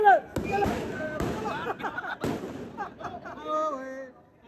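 Firecrackers going off, with several sharp, separate bangs spaced a second or so apart, mixed with voices and tonal background sounds.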